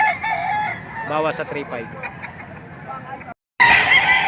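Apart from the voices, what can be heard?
chickens and roosters crowing at a market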